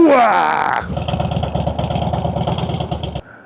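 A Harley-Davidson Softail motorcycle engine rumbles at a steady, loud idle close by with a throbbing, uneven pulse, after a brief tonal sound at the start.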